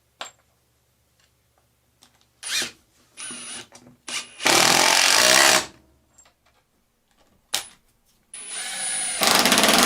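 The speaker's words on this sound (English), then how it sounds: "here I'm going to use an impact driver to set these screws" Several bursts of an impact driver setting screws into maple for a workbench vise, each a loud rattling whir lasting a second or two, separated by brief pauses and small clicks.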